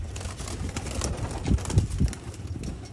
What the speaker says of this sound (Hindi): देखें कबूतर दोस्तों